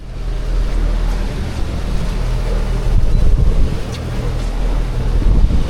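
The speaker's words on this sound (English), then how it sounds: "we are now pushed off the dock, heading out" A Bluewater 25T fishing boat pulls away from the dock for a tournament day, its engine a steady low rumble mixed with wind buffeting and water noise throughout, loud and continuous with no speech.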